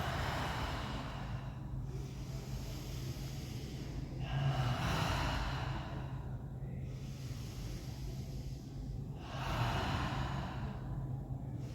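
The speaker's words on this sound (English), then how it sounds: "So we'll do 3 conscious breaths and then we will begin" Slow, deep breaths during a group meditation session, with three long airy inhales or exhales swelling and fading several seconds apart over a low steady background hum.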